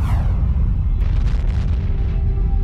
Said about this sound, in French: La plus grosse explosion qui ait secoué l'univers depuis le Big Bang.